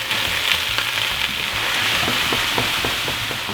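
Sardines, onions and fennel fry in olive oil in a pan for Sicilian pasta con sarde, giving a loud, steady, close sizzle with faint stirring taps and no speech.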